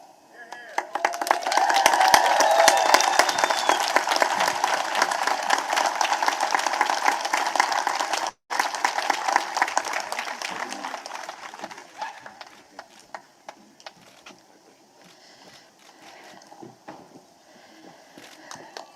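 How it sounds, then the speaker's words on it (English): An outdoor audience at a Fourth of July celebration at Mount Vernon applauds after the Pledge of Allegiance, broad sustained clapping that swells, then fades into scattered claps and crowd murmur. "let's give him another round of applause for leading us in the pledge"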